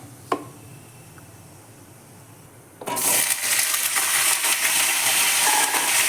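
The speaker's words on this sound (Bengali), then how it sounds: "ফোড়নে আমি তেজপাতা আর জিরে দিয়ে দিচ্ছি, দিয়ে পুঁইয়ের মুচুরিগুলোকে আমি ফ্রাই করে নেব।" Bay leaves, cumin and Malabar spinach stems hit hot oil after a quiet start with a small clink, setting off a sudden loud, steady sizzle that fills the rest of the moment close up.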